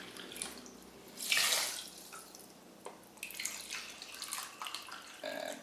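Filtered water pours and splashes into a cooking pot for rice, a close trickle with a louder gush midway and softer dribbles and drips afterward, with no voices.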